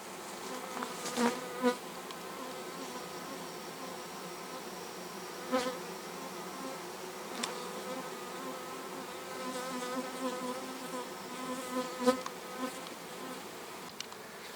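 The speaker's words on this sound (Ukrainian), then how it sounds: "Нічого не зрозуміло звідки цей рій взявся." A honeybee swarm at an apiary in late August, a dense continuous buzz of many bees with individual bees zipping close past now and then, steady and moderately loud, no talking.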